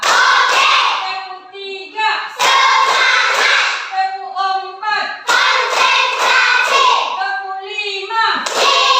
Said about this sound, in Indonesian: Tepuk semangat kita yaitu tepuk 1